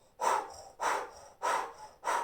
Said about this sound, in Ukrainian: ми дихаємо через рот і губи в формі букви О